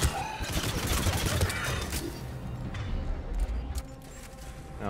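Gunfire in the Mass Effect Legendary Edition video game, a dense stream of overlapping shots mixed with mechanical game effects, steady and loud across the whole stretch.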